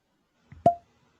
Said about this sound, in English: Oh, very nice cork pop too.